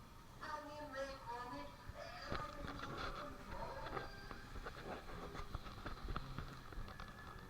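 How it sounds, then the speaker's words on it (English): An amusement park train at Blackpool Pleasure Beach rattles past with steady clickety-clack wheel noise and metallic clatter, moderately close, while people talk over it. "There's a train."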